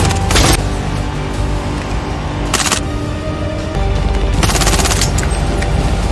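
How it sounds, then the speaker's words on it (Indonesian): Film gunfire in loud, close bursts: three sharp volleys of rapid shots at the start, middle and near the end, over a steady rumbling action soundtrack. "Ia kemudian langsung melepaskan tembakan."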